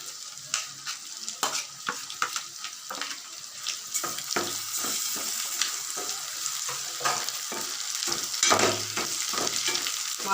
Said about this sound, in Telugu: మసాలా కొంచెం ఆయిల్లో బాగా వేస్తే బాగుంటుందండి. పచ్చివాసన అనేది పోతుందండి